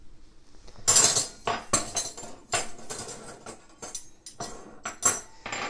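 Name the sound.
silverware tapped to play eighth-note rhythms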